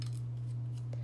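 Scissors snip through card for a handmade birthday card, a close, quick cutting sound over a steady low electrical hum.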